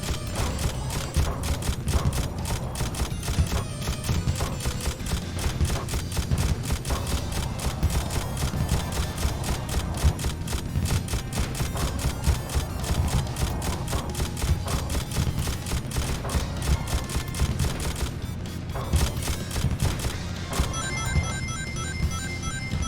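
Turret gunfire in the video game Shadow the Hedgehog rattles in rapid, dense bursts of repeated shots, loud and nearly continuous over game sound effects for about twenty seconds.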